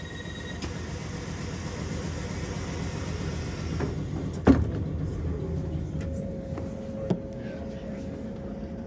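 A Class 455 electric train departs Twickenham station, its low rumble and rolling wheel noise running steadily with a sharp clunk midway and a faint tone rising later; no one speaks.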